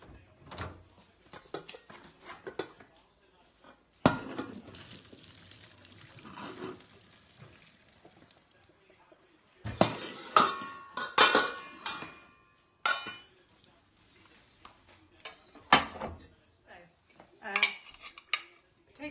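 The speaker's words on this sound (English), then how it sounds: "I'm just going to drain the potatoes and mash them." Boiled potatoes are drained and mashed in a pan in a home kitchen, with scattered clanks of metal utensils against the pan, a short splash of water, and bursts of scraping and knocking, fairly close and moderately quiet.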